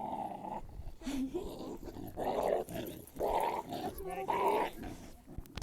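A dog growls in several rough, rumbling bursts, close and loud, with short pauses between them.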